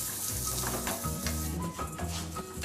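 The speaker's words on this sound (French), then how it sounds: "cette étape consiste à nacrer le risotto. On va le rendre translucide." Risotto rice toasting in olive oil in a pan, a close, continuous sizzle with light crackling and the occasional scrape of stirring, no voices.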